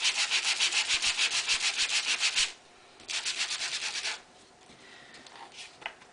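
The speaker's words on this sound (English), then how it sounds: "I'm going to sand a little bit more in that area." Cardstock is sanded by hand with sandpaper in rapid back-and-forth strokes, a rhythmic close rasping that runs in two bursts separated by a brief pause, then trails off into a few light scratches.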